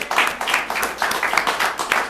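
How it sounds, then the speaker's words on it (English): A small group claps in uneven bursts, fairly close, with a few voices mixed in. "Give a round of applause, everybody."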